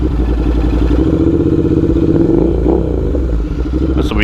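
A Royal Enfield Interceptor 650 with a cable throttle runs loud and close, its engine note steady and throbbing before a brief rise in pitch as it revs.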